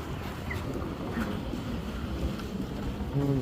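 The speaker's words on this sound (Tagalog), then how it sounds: "Oh, lakas ng hangin." Strong wind roars steadily and buffets the microphone, a broad rushing noise with faint distant tones beneath, no talking.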